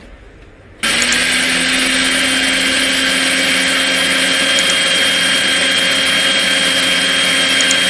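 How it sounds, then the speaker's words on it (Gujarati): A mixer grinder grinding spices, including fennel seeds, starts up abruptly and keeps whirring loudly and steadily, a high motor whine with no talking. "આ ત્રણેય વસ્તુને આપણે બરાબર પીસી લેશું"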